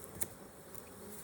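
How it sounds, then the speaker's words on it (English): Honey bees hum steadily around an open hive during an inspection, a faint continuous buzz with one brief louder pass early on. "What are we gonna do about all these bees on the bottom?"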